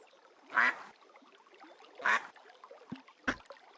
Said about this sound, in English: Look, ducks.